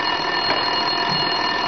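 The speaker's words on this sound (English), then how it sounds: "Winterson's phone was ringing." A telephone rings in the video game Max Payne 2, a continuous bright electronic trill that is loud and steady throughout, with no voices.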